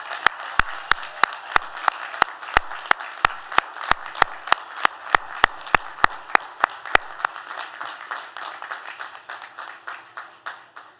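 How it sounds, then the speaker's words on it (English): A commencement audience of graduates, family and friends applauds, with dense sharp claps that are loud and sustained for about seven seconds before thinning into a fading, softer patter. "Let's give them a big, big round of applause."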